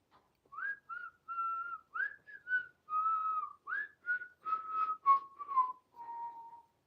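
A person whistles a melodic tune indoors while painting a diorama; clear sustained notes in short phrases, close and alone without talk.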